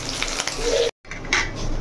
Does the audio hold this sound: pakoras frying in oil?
yes